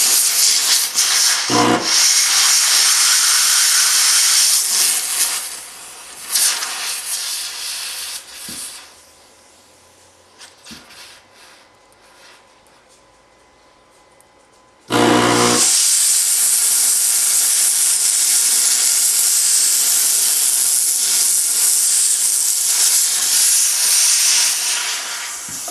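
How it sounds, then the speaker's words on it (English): A steam cleaner nozzle held close to a gun blasts off carbon buildup, with a loud broadband hiss that cuts out briefly into quieter rubbing and taps, then returns at full force. "the steam will blast off the carbon buildup"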